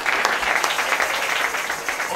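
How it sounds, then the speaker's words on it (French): A church congregation at a Sunday school service applauds loudly, a dense, steady wash of clapping with a few sharper claps standing out, lasting about two seconds. "Applaudissez très fort pour le Seigneur."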